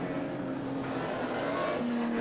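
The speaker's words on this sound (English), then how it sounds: "Still making the most noise as he passes me is the number 1 AC Cobra" An AC Cobra race car at a Goodwood historic race meeting roars past on track, a loud, continuous engine note rising and shifting in pitch as it goes by, with no one speaking.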